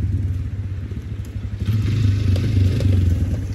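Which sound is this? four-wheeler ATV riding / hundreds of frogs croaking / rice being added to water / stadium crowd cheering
four-wheeler ATV riding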